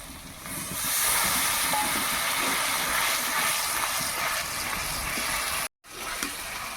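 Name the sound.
spice water added to fish cooking in pan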